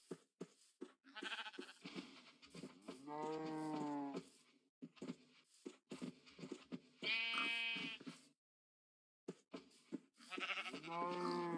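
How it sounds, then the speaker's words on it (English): Sheep on a farm bleat several times in long, wavering calls. The calls are close and clear, separated by quiet pauses and brief knocking sounds. "I saw another sheep."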